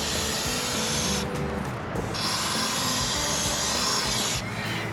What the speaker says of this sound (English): then spray it along this whole screw also